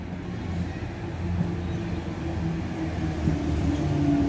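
Sydney Trains Waratah A18 electric train at Blacktown station, a steady low rumble and hum of the train idling or moving at the platform, continuous and fairly close with no talk.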